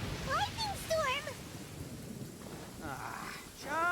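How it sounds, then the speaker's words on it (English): Thunderstorm in Genshin Impact, with a steady wash of rain and low rumbling thunder beneath animated character voices speaking in bursts. "Uh-oh! Lightning storm!"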